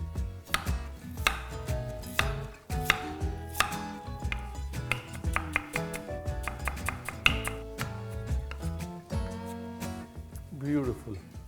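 A knife chops ginger and green chilies on a board in quick, uneven bursts of close, crisp taps over a tonal background.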